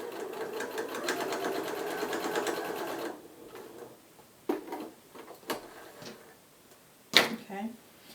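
Sewing machine stitching a pleated fabric face mask, a fast steady whir for about three seconds, then stopping, followed by scattered handling clicks and thumps, close and fairly quiet.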